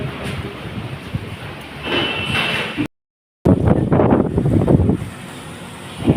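Strong gusty wind buffets the microphone under dark storm clouds just before heavy rain, a loud, steady rushing roar with a brief dropout midway and no voices.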